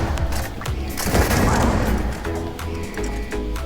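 Bridger weapon hip-fired in the Starfield game, a rapid cluster of loud, booming shots that swell in the middle before easing off.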